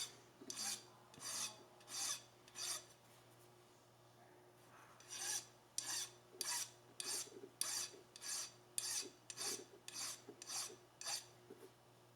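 A file smooths a violin nut in steady back-and-forth strokes, about fifteen close, raspy scrapes in a regular rhythm with a short pause partway through and a faint hum underneath.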